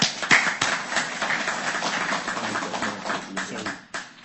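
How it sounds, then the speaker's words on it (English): A small audience at an online market-manipulation talk gives a short burst of clapping for the speaker, Paul, with a few distinct sharp claps over a steady patter that thins toward the end, somewhat faint. "So, ladies and gentlemen, big round of applause for Paul."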